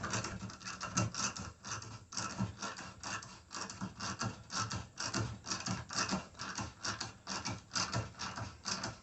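A hand tap cuts threads into metal, producing a continuous run of close, faint scratching and rasping pulses with an uneven back-and-forth rhythm.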